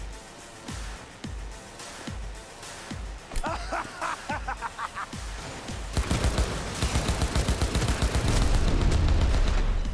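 Rapid gunfire in Cyberpunk 2077 combat, single sharp shots at first, then dense automatic bursts that grow louder and nearly continuous in the last few seconds, with game sounds underneath.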